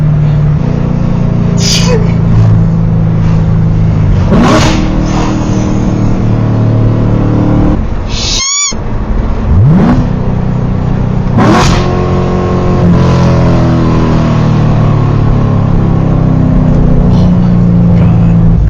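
A C7 Corvette Stingray sports car engine revs and roars loudly outside, with rising and falling pitch sweeps as it accelerates, over steady traffic noise in Mexico and occasional voices.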